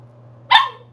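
A three-month-old puppy gives a single short, sharp bark, close and clear over a steady low hum.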